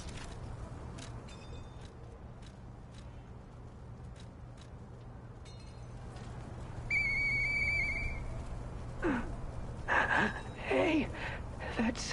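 Murphy whistles in the game Lies of P: a short, clear two-tone whistle rises out of quiet, rustling game ambience, followed by scattered breathy character sounds.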